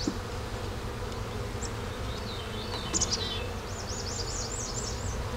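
Honeybees buzzing over a brood frame of young larvae, a steady close hum with individual bees whining past now and then, continuous throughout.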